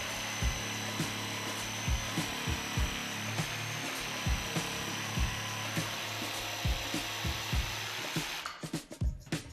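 Jigsaw cutting through MDF while making an elephant rocking chair, a steady buzzing whine with repeated rhythmic knocks of the blade stroke, close and loud, stopping near the end with a few rattles.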